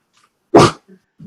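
A single loud, close dog bark bursts out in a quiet community library board meeting room, followed by a couple of faint short sounds.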